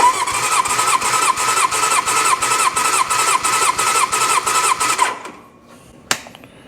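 A 1972 Honda CB750 Four inline-four cranks over on the starter during a compression test, a loud, steady rhythmic chugging of evenly spaced pulses lasting about five seconds before it cuts off, followed by a brief click.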